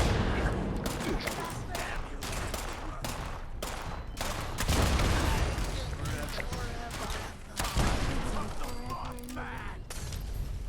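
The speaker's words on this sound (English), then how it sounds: "Automatic gunfire." Rapid bursts of automatic gunfire in the video game Fallout 76 crackle almost continuously, with dense explosive pops layered under intermittent voices.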